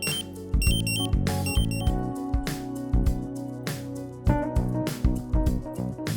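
Rapid electronic gas detector alarm beeps in repeating bursts with tonal, stuttering patterns, loud and close.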